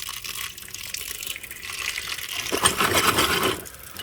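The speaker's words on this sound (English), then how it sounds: "then we throw them under the tap and give them a rinse off" Tumbled coins and metal-detecting relics rinsed under a running kitchen tap: a steady hiss of flowing water that swells louder and splashier in the second half, with faint metallic clinks mixed in.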